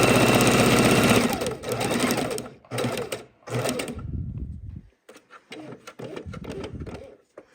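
A sewing machine runs in short bursts of rapid stitching, stitching a raw-edge appliqué around a boot shape in purple thread. It stops and starts several times, close and fairly loud, and there is no talk.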